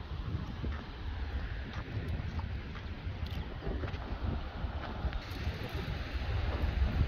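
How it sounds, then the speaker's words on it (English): Wind at the beach blows across the microphone in a continuous low buffeting rumble, gusting stronger toward the end, with no voices. "It's a bit windy though."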